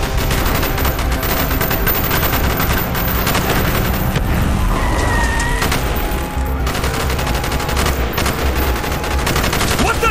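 Dense, loud gunfire and covering fire in Call of Duty: Black Ops, sustained machine-gun bursts layered with booms throughout, with voices shouting in the mix.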